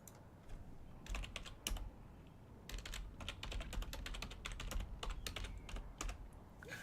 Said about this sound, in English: Ignore my typing skills.